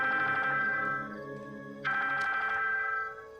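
A telephone rings in a Hindi TV drama, two electronic ring bursts with a short quieter gap between them, clear and fairly close with no talking over it.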